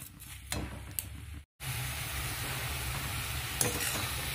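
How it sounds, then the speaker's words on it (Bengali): Grated carrots and sugar frying in a pan for carrot halwa, a steady close sizzle with stirring and scraping of a spoon, brief pause, no voices. "এবার এটাও আমি 5 মিনিট ভাজব, যাতে গাজর আর চিনি একদম মিশে যায়।"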